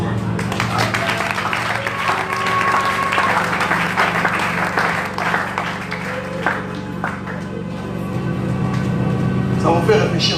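Church congregation applauding during a service, a dense sustained clapping mixed with crowd voices and a low hum, with talking heard through it.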